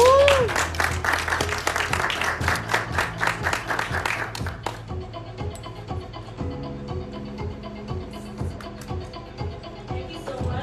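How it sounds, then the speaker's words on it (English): Applause for a hotel communications speaker at a press conference rises and thins over a few seconds as music plays underneath, with no talk. "Let's give her a round of applause, please."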